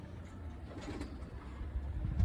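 Soft, low pigeon cooing repeats through the clip, faint and close, with a light rustle of ambient noise and no talking.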